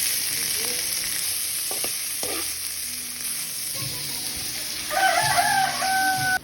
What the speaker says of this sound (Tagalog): Bali magigisa naman tayo guys